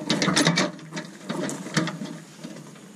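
Ratcheting clicks sound in quick bursts while a bolt is loosened to take a deck down, close and fairly quiet, with no talking.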